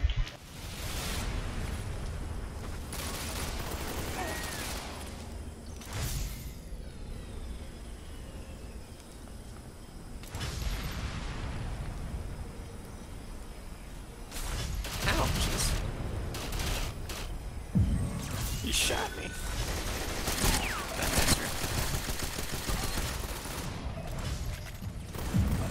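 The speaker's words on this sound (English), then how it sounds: "Where is that guy shooting from?" Gunfire rings out in a video game firefight on the Peshawar map with a VSS rifle, with scattered shots, bursts and booms spread across a long stretch over steady background noise.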